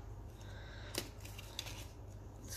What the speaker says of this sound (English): I've got these cute little scissors, little mini scissors.